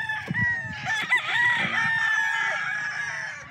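A blue-legged dome rooster of Early Bird gamefowl bloodline crows once, loud and close, with a few clucks and scratchy farmyard noise around it.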